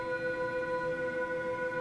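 Raw output from the LIGO gravitational wave detector, unfiltered, with steady tonal line harmonics humming over a soft noisy hiss, constant and unchanging like a faint electrical drone.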